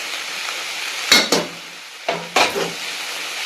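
Banana flower cooks in a pan under a low, steady sizzle, broken by two pairs of sharp stirring scrapes that stand out clearly above the background.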